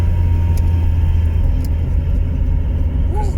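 Steady loud low rumble of a car driving with a window fully open, wind and road roar filling the cabin without a break.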